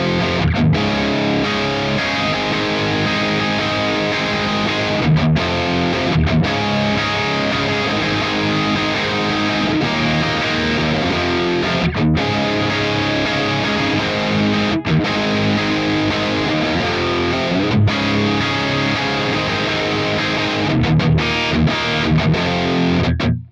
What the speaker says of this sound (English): Now the drive capture is the third channel on the Roadster on the vintage mode.